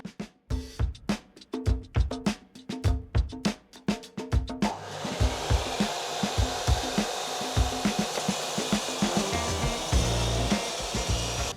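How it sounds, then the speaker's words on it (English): A miter saw cuts wooden boards: sharp rhythmic knocks and taps first, then the saw motor spins up into a loud sustained whine that continues to the end. "Cut it on the miter."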